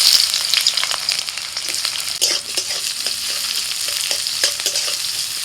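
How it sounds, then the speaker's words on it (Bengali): Chopped onion frying in oil for a ridge gourd and egg dish, a bright continuous sizzle with scattered stirring scrapes and clinks, close and fairly loud, no voices. "তেলের মধ্যে দিয়ে দিচ্ছি পেঁয়াজ কুচি"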